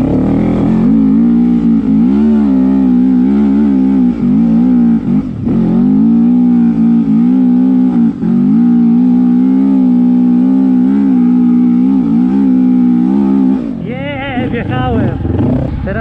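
A KTM motorcycle engine at half throttle in the Uzdowo gravel pit gives a loud, steady drone that wavers in pitch, with a rougher, shifting roar near the end.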